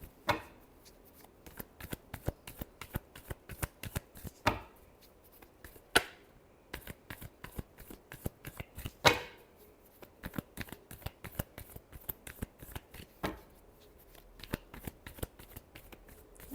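Tarot cards are shuffled by hand in quiet, scattered riffles and soft slaps, with a few sharper snaps standing out among the faint, irregular patter.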